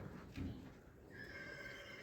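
A young horse, a one-year-old foal, gives a faint high neigh, preceded by a short low snort or thud, heard at a distance over quiet outdoor background.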